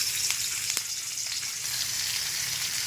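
Rohu fish frying in a little oil in a wok, giving a steady, close, even sizzle with a few faint crackles and no voices throughout.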